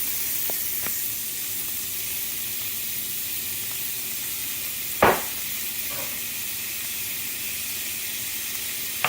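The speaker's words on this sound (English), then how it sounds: "So first, you're going to saute the vegetables." Vegetables sautéing in oil in a pan over fairly low heat, giving a steady soft sizzle throughout with a single sharp clink of a utensil near the middle.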